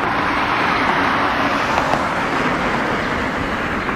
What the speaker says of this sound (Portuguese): Passando o carro.